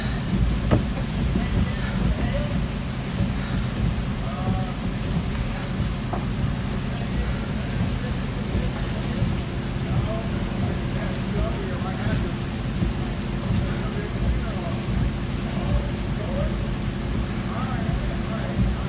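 Hail and rain pound a vehicle during a Kansas supercell thunderstorm, a dense, loud, steady drumming with a low rumble underneath that never lets up.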